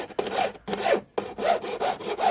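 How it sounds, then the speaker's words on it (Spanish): A hand file works the edge of a cut copper sheet for a textured bracelet in five loud, rasping back-and-forth strokes. Each stroke is close and alone, separated by brief pauses. "Ya que cortamos, vamos con una lima"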